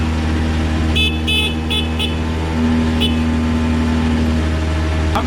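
Go-kart engine throttled on Tokyo streets: a steady loud engine drone with a sustained tonal note, brief horn-like toots near the start, and a continuous idling rumble throughout.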